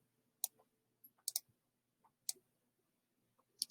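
Sharp, close computer mouse clicks, about seven scattered single and double clicks at irregular intervals over near silence.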